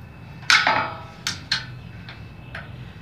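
An 8 mm wrench turns a screw into a metal anchor, giving several sharp metallic clicks and ringing taps at irregular intervals, close by with no talking.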